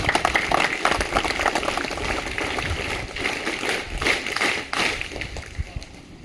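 Applause at a school gathering for students and staff, a dense continuous clatter of many hands clapping that swells and then tapers off, loud and fairly close, with no talk over it.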